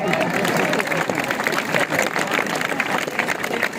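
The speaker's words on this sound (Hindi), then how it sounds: "अगर अच्छा लगेगा तो आपकी तालियां बजेंगी।" A school audience in Lodhran applauds a magic trick, with loud, uneven clapping from many hands and some crowd noise running throughout.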